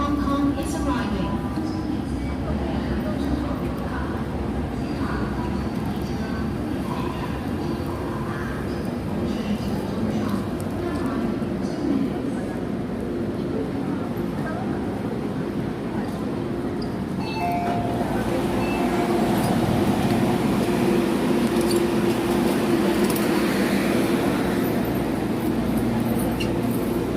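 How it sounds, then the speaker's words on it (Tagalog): Hong Kong-bound train pulling into a station platform, a long steady rumble and rolling rail noise that swells toward the end, with announcements and nearby voices talking over it. "The train to Hong Kong is arriving."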